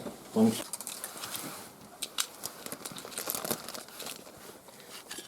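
A plastic evidence bag crinkles and rustles up close in irregular bursts during a police search, with faint voices in the background.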